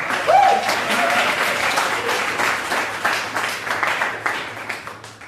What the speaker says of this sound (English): Please a round of applause for Milan, our host tonight, and for all of our comedians